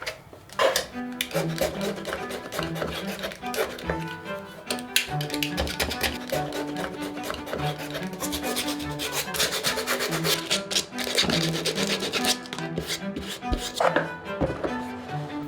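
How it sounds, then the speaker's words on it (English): A utility knife and sandpaper work the mold seams off a plastic planter, producing close, repeated scraping and rasping strokes in an uneven rhythm. "I've actually removed the seams using a utility knife and sandpaper on this one"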